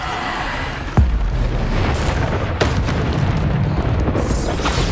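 A Bombarda blast spell going off in Hogwarts Legacy: a sharp, loud boom near the one-second mark, then a dense rumbling combat din with further smaller impacts through the rest.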